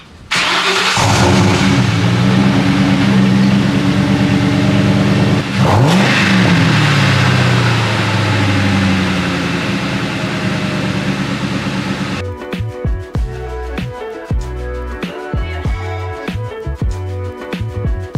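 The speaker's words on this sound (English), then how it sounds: "this might be the last time we have a cold start in the Mustang with the stock exhaust" A V8 Ford Mustang GT engine with stock exhaust cold-starts, cranking and firing up, settling into a loud, rumbling idle with a throaty exhaust note, then changing to a rougher, pulsing rumble.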